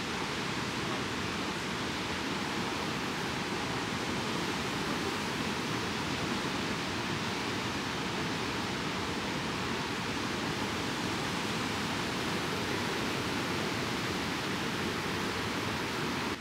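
Roaring whitewater of the level 6 rapids below Niagara Falls, a steady, dense broadband rush that stays loud and unbroken throughout, with no voices over it.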